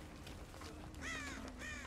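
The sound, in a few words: crows cawing in video game Dead by Daylight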